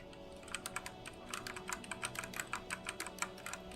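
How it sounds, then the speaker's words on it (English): A new mechanical computer keyboard clatters under steady, fast typing, with a quick run of sharp, close key clicks and no talking. "I wanna make you hear its typing sound, right?"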